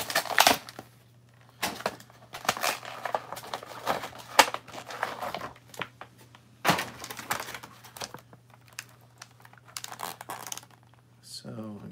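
Star Wars Black Series action figure packaging being opened by hand, with bursts of plastic and cardboard crinkling and tearing in irregular clusters separated by short pauses. Close and fairly loud, with a faint steady hum underneath.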